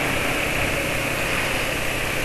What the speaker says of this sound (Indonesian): suara mesin jadi kasar kalau habis dipakai geber-geber